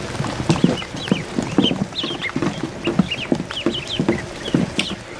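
Several ducklings busily peck and feed at a feeder in a hatchery brooder, a steady stream of close, rapid pecking clicks and soft chirping cheeps repeating throughout with no talk.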